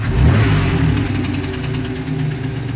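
A turbocharged 1993 Honda Civic engine gets a short blip of throttle, rising briefly, then settling back toward a steady, close idle with a possible knock.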